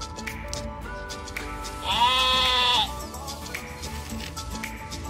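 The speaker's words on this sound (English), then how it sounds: "This is a sheep." A sheep bleats once in a single drawn-out, wavering call lasting about a second, loud and close over steady background noise, with animals on sand nearby.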